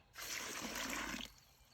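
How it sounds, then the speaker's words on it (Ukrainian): Water is poured from a bucket into a large planting hole for a thuja tree to make mud. A single close, gushing pour lasts about a second, then stops abruptly. "наливаю води, роблю багно."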